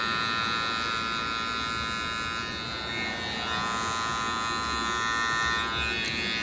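A Babyliss Boost electric hair clipper with a fade blade buzzes steadily at close range, a continuous high-pitched motor whine with slight shifts in tone.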